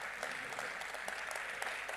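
Thin, faint applause rises from the audience at a Hindi comedy poetry gathering, a steady patter of distant hand claps that lasts about two seconds with no speech over it.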